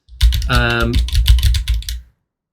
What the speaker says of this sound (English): I got a lot of keyboard noise there